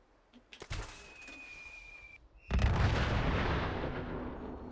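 A mini nuke goes off in the video game Fallout 76, a sudden loud blast that gives way to a long, dense rumbling roar. A few sharp pops and a thin tone come before it.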